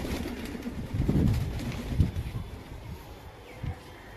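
Madras pigeons at a home loft give soft, low cooing in a couple of swelling bursts, close by and over a breezy background hiss.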